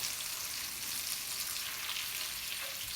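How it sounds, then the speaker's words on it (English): Butter and honey sizzle softly in a pan while being stirred into a frothy caramel, a steady, quiet bubbling fizz with no talking. "So we melt the butter in, keep stirring it."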